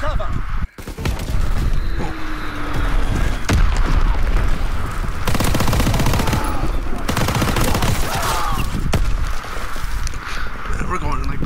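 Dense, sustained gunfire from Call of Duty WWII multiplayer combat, with overlapping bursts and heavy booms filling the whole stretch at steady loudness, and voices talking over the battle.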